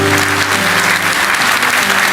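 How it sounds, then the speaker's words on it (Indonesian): Church congregation clapping during a sermon, a dense steady wash of applause filling the room, loud and continuous with music or organ tones sustained underneath. "Kasih tepuk tangan untuk Tuhan Yesus."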